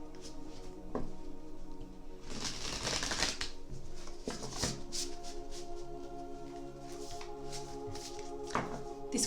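A deck of tarot cards being shuffled close by, with several crisp riffling bursts around two to three seconds and near five seconds over a steady low hum, plus a few soft taps in between.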